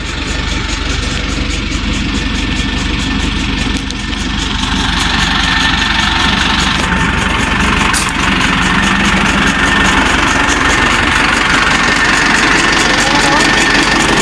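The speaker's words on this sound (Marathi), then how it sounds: "या डांबरीवरून आता थेट निलंग्याकडे निघते आमचं ट्रॅक्टर" A tractor drives on an asphalt road with its engine running loud, close and steady throughout, a constant heavy rumble with rattling vibration and faint talk underneath.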